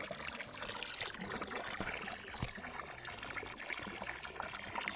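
Water pours steadily into a large container of about 50 litres, a continuous splashing trickle heard close and alone throughout.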